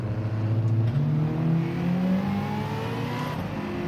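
Racing car in a driving video game, its turbo spooling up as the engine revs steadily rising under acceleration, a continuous loud drone with climbing pitch for about four seconds.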